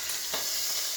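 Lamb shanks browning in a hot pot, a steady close sizzle and hiss of searing meat running throughout, with a brief louder crackle burst near the middle and no talking.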